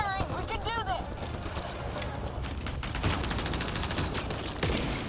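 A video game firefight fills the scene with dense, continuous gunfire. Rapid volleys and bursts sound close and loud, and shouting voices come through over the shooting.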